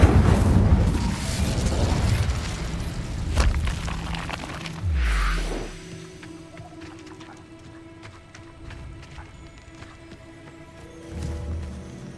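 Incendio fire spell cast in Hogwarts Legacy: a loud burst of whooshing, crackling flame with a swelling roar fades after a few seconds into quieter ambient game sounds and scattered clicks, with a smaller flare near the end and no speech.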